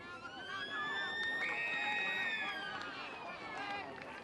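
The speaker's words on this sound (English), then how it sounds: "the halftime siren." A long halftime siren wails across the ground at an under-15 Australian rules football grand final, rising and holding for several seconds over crowd noise and a distant voice.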